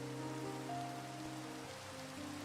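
Steady rain from the video game Minecraft hisses continuously at an even level, with sustained tonal background music notes layered under the patter and no voices.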